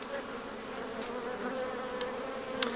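Honeybees working at the hive, a steady close buzzing hum that never breaks, with a couple of faint clicks near the end.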